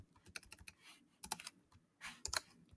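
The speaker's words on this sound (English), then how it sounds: "So then I go to Desmos and I type it in." Quiet keystrokes on a computer keyboard while entering an equation into the Desmos graphing calculator, an irregular run of light clicks in small bursts with short pauses, close and soft, no talking.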